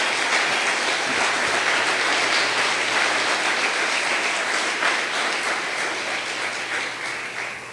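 A church congregation claps together in sustained, dense applause that holds steady for several seconds before gradually tapering off.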